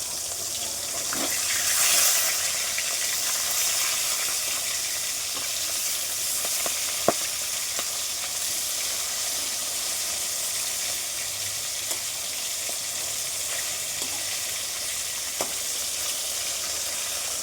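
Flipped fish pieces keep frying in hot oil, a steady even hiss with a brief louder flare near the start and sparse sharp pops and clicks scattered across, close and unaccompanied by speech.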